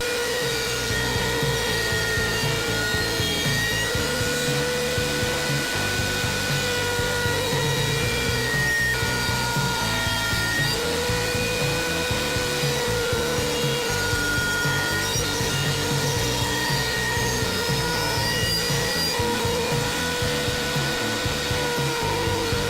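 A router cuts through wood while a step stool is being built, a loud, steady rasping grind that runs without a break and without any talk.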